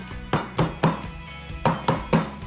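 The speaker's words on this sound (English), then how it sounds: "I like to just give it a gentle tap at the end so that everything can settle down into the top of the popsicle mold" A filled popsicle mold tapped gently on a kitchen counter, six distinct hollow knocks with a faint clink, spaced unevenly over a couple of seconds, close and clear with no talking.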